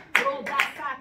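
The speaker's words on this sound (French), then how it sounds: "Acclamons Jésus pour sa parole merveilleuse." A church congregation claps together in a few sharp, close bursts, loud and even, with a voice faintly audible alongside.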